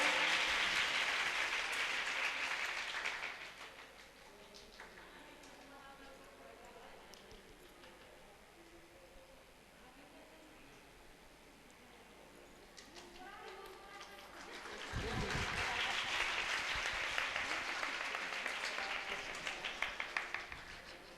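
Audience at a Balaji temple event in Delhi claps in welcome, a broad burst of applause at the start that fades under a stretch of talk, then swells loud again near the end.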